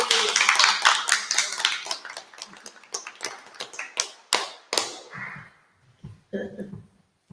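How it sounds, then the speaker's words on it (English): A small audience at an afternoon arts session claps in a short burst of sharp, close hand claps, thinning into scattered claps that fade out, followed by a few quiet taps near the end. "So I'm going to give her a clap."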